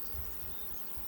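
Honey bees buzzing faintly over a hive frame during a beekeeping inspection, a soft continuous drone with a low hum and steady background hiss.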